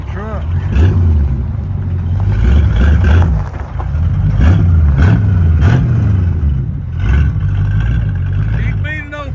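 An old Ford truck engine, back after more than twenty years off the road, rumbles and revs in several uneven surges, close and loud, while people talk over it.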